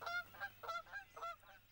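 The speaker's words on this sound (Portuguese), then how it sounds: "Gansos do Canadá." Canada geese honk close by in a quick series of about six nasal, bugling calls, fairly faint overall with no talk over them.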